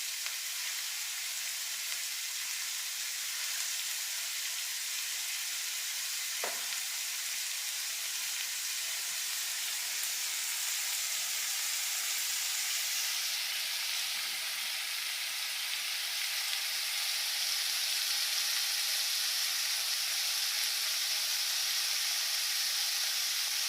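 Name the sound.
marinated prawns frying in hot oil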